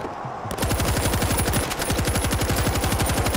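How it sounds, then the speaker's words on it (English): Sustained, rapid machine gun fire in the World War Z: Aftermath video game, a loud continuous burst of closely spaced shots starting abruptly and running to the end without a break. "Machine gun in place!"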